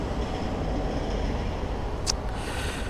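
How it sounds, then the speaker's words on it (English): A train rolls past at a crossing with graffiti-covered cars, a steady broadband rumble and roar of wheels on rail held throughout, fairly close, with a brief high squeal or screech near the end. "we're just sitting here waiting and watching the choo-choo train and the graffiti artists go by"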